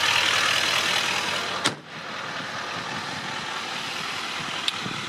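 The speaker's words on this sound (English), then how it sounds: "Shut the hood." The hood of a 2017 Chevrolet Silverado 2500 High Country Duramax diesel crew cab pickup slams shut once, a single sharp close thud over a steady engine rumble that carries on afterward.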